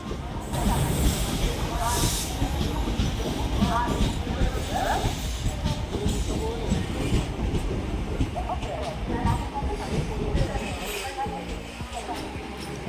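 An express train running from Udupi to SMVT Bengaluru rumbles on with a steady rolling clatter and hiss heard from inside a coach, while passengers' voices chatter over it.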